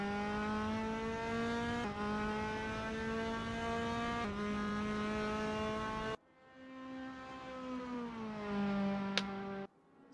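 A Formula Raceroom 3 car in the RaceRoom racing game idles around the Red Bull Ring on a warm-up lap. Its engine drones loud and steady, with brief shifts near two, four and six seconds before the revs ease lower and fade.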